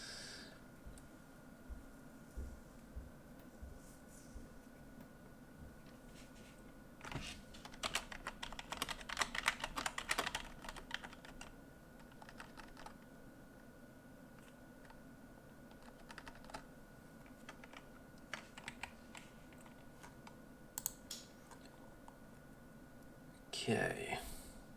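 Computer keyboard typing during an online game duel, scattered soft key clicks that cluster into a busier burst midway, heard faintly under a steady hum with occasional quiet speech.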